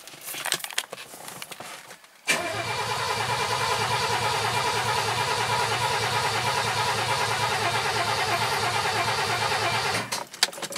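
Mercedes M123 engine fitted in a W126 cranking without starting: a loud, steady rhythmic starter churn lasting about eight seconds, preceded and followed by faint handling noises.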